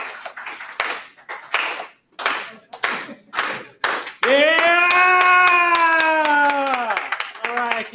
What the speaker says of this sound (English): I want to give you like a slow clap because this is amazing